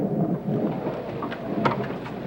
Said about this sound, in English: But I believe the storm has already started.